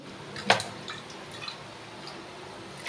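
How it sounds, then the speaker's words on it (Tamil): Water is poured into a cooking pot while a bottle gourd kootu is made, starting with one sharp splash and then fading to a faint trickle and a few drips. "அதுக்கு தேவையான அளவு கொஞ்சம் தண்ணி ஊற்றி"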